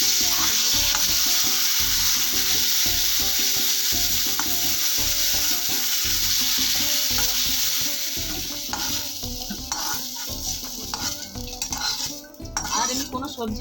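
Pieces of eggplant fry in a pan of oil with a dense, loud, continuous sizzle, while a spatula repeatedly scrapes and clinks against the pan; the sizzle eases slightly toward the end as the stirring grows busier.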